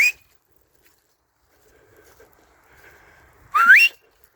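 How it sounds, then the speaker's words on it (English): A person whistles for a dog out in open fields: a short high whistle at the start and a sliding, rising whistle near the end, with quiet faint movement between. "Sorry about the whistling."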